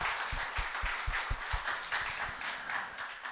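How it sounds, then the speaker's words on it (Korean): A church congregation claps in thanks: soft, uneven applause with scattered individual claps rising and falling in a loose rhythm, faint and somewhat distant, with no talking. "우리 하나님 앞에 감사의 박수 한번 할까요?"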